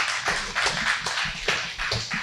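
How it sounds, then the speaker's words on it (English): A small audience gives sparse, uneven applause of a few hands clapping in loose bursts, fairly close and with no talking over it. "Can I get another round of applause?"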